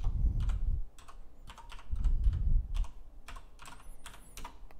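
Someone types a folder path on a computer keyboard in quick bursts of close, crisp key clatter, with short pauses between runs of keystrokes and no talking.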